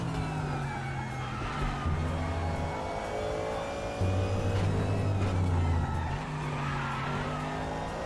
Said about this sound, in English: the tyre squealing sounds that's kind of what it sounds like in real life